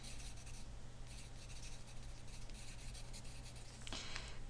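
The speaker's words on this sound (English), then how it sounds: "let me write a sentence here." Pen or pencil writing out a sentence on paper or a board during a math lesson on combining functions, a steady soft scratchy rubbing of strokes running throughout at close range, with no talking.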